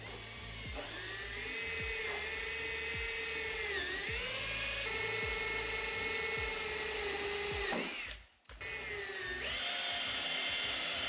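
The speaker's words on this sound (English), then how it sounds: "So let's start drilling out the hole of the button" A power drill whines steadily and loudly with slight pitch dips as it bites, drilling a hole for a quick latch fastener button, cutting off briefly near the end before spinning up again.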